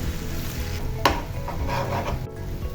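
Egg with onion and chili frying among mixed vegetables in a pan, a steady close sizzle with scraping and stirring from a spatula and one sharp clink partway through.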